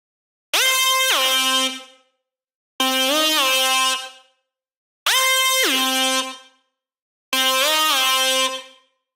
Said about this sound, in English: It's quite a harsh sound. I've named this harsh pad, but actually it's not a pad sound, it's a lead.